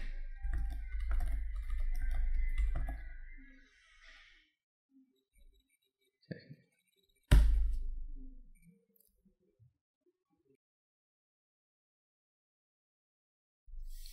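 Typing on a computer keyboard: a quick burst of key clicks, then a few isolated taps and a sharp louder click, with quiet gaps between, fairly soft and close.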